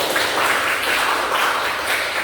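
Applause from a classroom of students after presentations, a dense steady wash of many hands clapping together at moderate loudness, with no talk over it.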